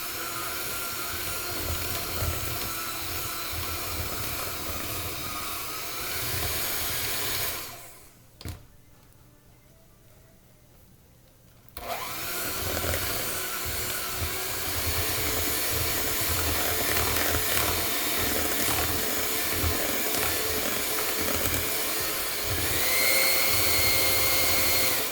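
An electric mixer beats banana bread batter in a steady, loud whirring drone that stops briefly for a few seconds midway, then resumes, with no voices.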